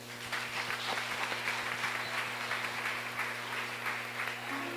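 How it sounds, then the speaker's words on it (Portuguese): A church congregation at a Portuguese-language revival congress claps in praise, rhythmic hand claps ringing through the hall at moderate distance over a steady low hum from the sound system. "Aplauda ao Senhor."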